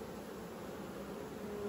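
Honeybees buzz on a hive frame held up during a gentle inspection, a steady close hum with no talking.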